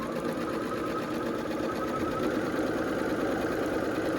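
A sewing machine runs continuously, stitching quilt pieces for a red, white and blue Lemoyne Star block, a steady close mechanical whir with rapid needle knocking and no pauses.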